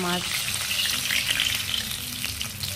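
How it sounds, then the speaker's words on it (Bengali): Fish frying in a pan gives a loud, close, continuous sizzle with crackling bursts throughout, with no talking over it. "মাছ ভেজে নিয়েছি।"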